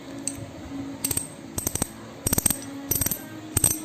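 A Shimano bicycle cassette freehub clicks in short, rapid bursts repeated at roughly even intervals, close and fairly quiet, with no one talking.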